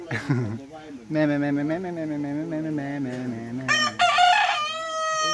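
Roosters crow repeatedly with long drawn-out calls, overlapping one another, on a free-range farm, and higher clucking and crowing cuts in toward the end, all fairly loud and close.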